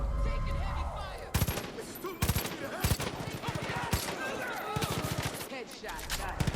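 Gunfire in the Far Cry 5 video game, with bursts of automatic fire and single shots cracking repeatedly in a heavy firefight, under shouted voices.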